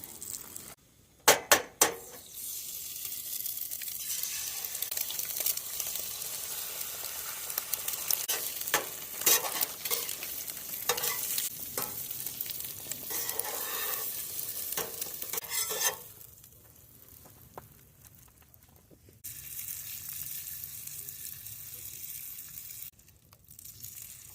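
Bread halves toasting in a pan at a campsite, with a steady sizzle broken by clinks and knocks of utensils and cookware, then the frying dies down to quiet before resuming softly.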